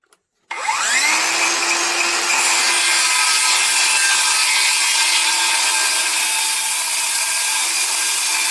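Wood pieces being cut to length for a bed frame with a power saw: after a short knock, the blade spins up and runs a loud, continuous, steady whine through the cut, close by, with no voices.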